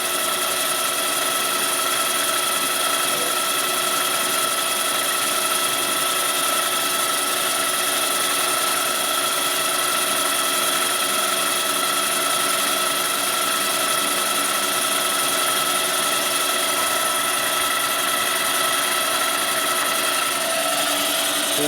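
A boring machine cuts a Harley-Davidson twin cam big bore cylinder, 98ci to 107ci, giving a continuous, steady, loud whine with sustained tonal hum and no break for the whole stretch.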